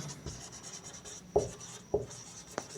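Quick strokes write on a board, a few dry scratchy scrapes with short sharper taps as the marker or chalk meets the surface, close by and fairly quiet without speech.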